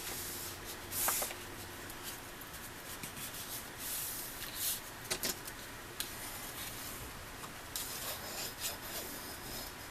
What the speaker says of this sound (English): Burnish all of these.